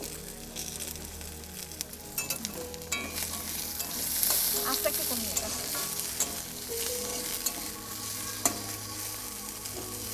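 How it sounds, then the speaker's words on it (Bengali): Chopped ginger, garlic, onion and green chilli fry in oil for a Bengali fish curry, giving a steady, close sizzle broken by stirring scrapes and clinks, with a brief quiet voice partway through. "আদা কুচি, রসুন কুচি এগুলোকেও একটু হালকা আছে ভেজে নেব। পেঁয়াজ আর কাঁচা লঙ্কাটা, পেঁয়াজ দিয়ে দিলাম"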